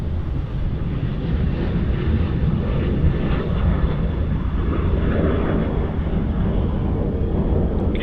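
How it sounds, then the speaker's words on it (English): A Dassault Falcon 7X business jet landing on runway 34 left at Sydney Airport gives a steady, broad engine roar that holds evenly for several seconds, sounding moderately close with wind noise and no talk. "Looks like there's a 7X Falcon coming in there on runway 34 left"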